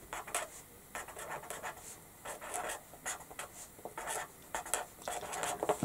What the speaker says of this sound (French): Je vais marquer partie fermeture, comme ça je me rappelle.